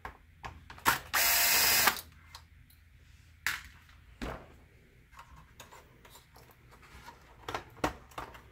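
A screw is unscrewed while a BenQ DLP projector is serviced: a short burst of a power screwdriver whirring, then scattered clicks, taps and ratcheting of small parts, close and fairly quiet.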